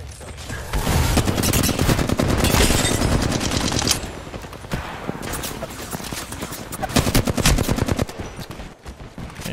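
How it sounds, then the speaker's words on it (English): Rapid gunfire from an enemy team in the Apex Legends video game: dense, loud bursts of automatic shots, one after another, running almost without pause through the whole stretch. "Getting shot by another team."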